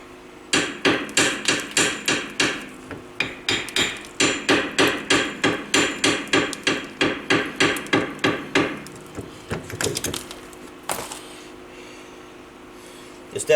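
A hammer taps rapidly on a bolt to work it loose on a Polaris RZR 800, with a long run of even, ringing metallic blows followed by a few scattered hits and a quieter stretch.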